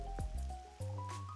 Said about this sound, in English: It's still raining as usual